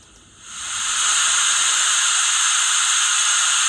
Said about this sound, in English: You've got a hiss, a brake release.